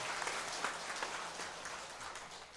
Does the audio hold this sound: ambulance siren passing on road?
no